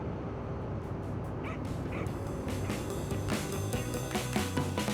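A dog in a car barks, yips and whimpers in short, irregular bursts over a steady low road rumble, fairly quiet and without speech.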